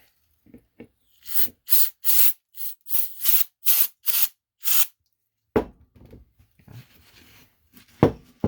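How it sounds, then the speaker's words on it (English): A series of short, loud hissing bursts of aerosol brake cleaner in quick succession on a 2009-2013 Honda Rancher 420 rear wheel bearing area, followed by clattering handling noises and light rustling. "Spray with some brake cleaner."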